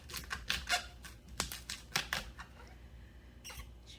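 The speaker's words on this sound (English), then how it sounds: "what we're going to do is cut it down the middle" A kitchen knife cuts down the middle of a licorice-scented, onion-like vegetable. A string of crisp, quiet chops and taps lands at an uneven pace, close to the mic, with short gaps between strokes.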